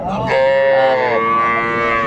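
A single loud, close cow moo, long and drawn out, rises from a cattle market at Ranigonj haat in Dinajpur where Sahiwal cows and calves are sold, with faint market bustle beneath.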